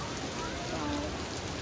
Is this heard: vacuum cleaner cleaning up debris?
no